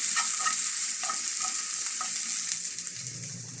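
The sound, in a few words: sautéed onion tempering added to meat curry, sizzling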